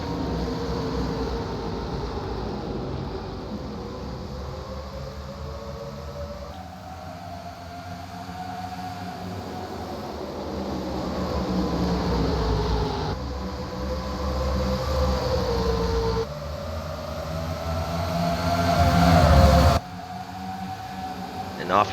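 Pickup trucks roar around the Memphis track in a 2008 truck series race just after the green flag, a dense, continuous engine drone that swells and fades as the pack passes.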